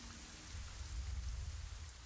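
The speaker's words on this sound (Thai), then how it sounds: "นี่ไงเนี่ยฝนตกแล้วแบบเนี่ยสมจริงขึ้น" Steady rain from the video game Moonlight Blade, a dense soft hiss of falling drops with a low rumbling undertone, even and continuous with no voices.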